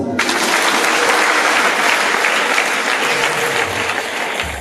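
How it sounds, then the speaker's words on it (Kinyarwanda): Church congregation applauding God during a sermon, a loud, sustained burst of many hands clapping that swells quickly and tapers slightly at the end. "Nuko Imana tuyikomera amashyi."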